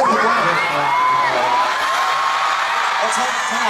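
A large audience at a SHINee fan event cheers and whoops loudly and continuously, high shouts and yells from the crowd layered over one another.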